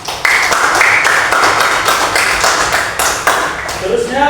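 Students in a classroom clap in a dense, even burst that starts abruptly, stays steady for about four seconds and then fades as voices come in.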